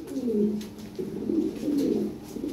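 Lahori pigeons coo at a pigeon fair, a steady, fairly close run of soft, low, throaty cooing with short pauses and no voices over it.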